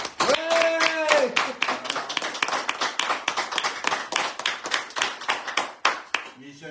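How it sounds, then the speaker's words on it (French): Close, crisp clapping from a small studio audience applauds a guest in a bistro radio show, after a voice cheers briefly; the claps run fast and uneven, then fade out. "on peut l'applaudir déjà lui tout seul"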